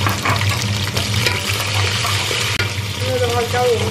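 Spices stir-fried in hot oil inside a pressure cooker, a busy close sizzle and scraping stir sounds running steadily throughout, with faint background talk.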